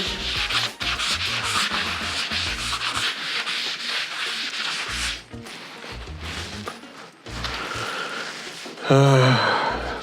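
Steady, close abrasive rubbing as car body filler on a hood is sanded by hand, in rhythmic strokes with brief pauses, ending in a breathy exhale.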